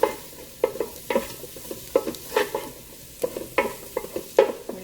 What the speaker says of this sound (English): We're just going to let that garlic cook for about 1 minute.